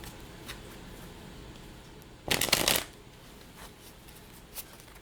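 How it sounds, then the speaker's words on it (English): Tarot cards being shuffled by hand in a brief, crisp riffle burst lasting about half a second, close and clear against a quiet room with faint taps around it. "Shuffle, shuffle."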